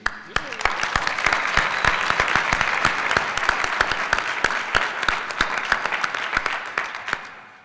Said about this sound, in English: You certainly deserve a warm round of applause from all of us for all of your support for your graduate